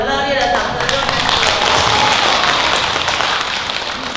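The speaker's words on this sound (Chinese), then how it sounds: "我们再给他们一个很热烈的掌声" A crowd at a community care center gives a volunteer music troupe loud, sustained applause, with a voice briefly audible at the start before the clapping fills in.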